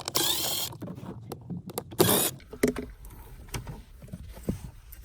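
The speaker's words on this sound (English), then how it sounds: "grab your hex bit and just remove these" A hex bit driver backs out screws on a Nissan Altima airbag control module, giving close bursts of whirring and ratcheting with clicks and handling noises between them.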